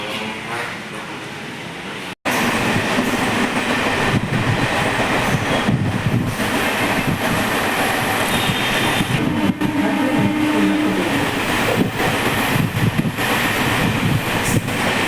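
A train running near Yelahanka Junction railway station, a loud, continuous rumble and rattle of rail cars with wind buffeting, steady from just after a brief cut early on to the end.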